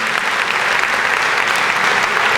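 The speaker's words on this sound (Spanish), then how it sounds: "Dale un aplauso bien fuerte al Rey de la Gloria." Church congregation clapping hard and steadily, a dense continuous applause filling the room at close range, with no voices standing out.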